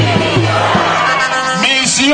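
A huge crowd at a political rally celebrating the advent of the Fourth Republic chants and cheers loudly and close throughout, voices rising and falling in waves.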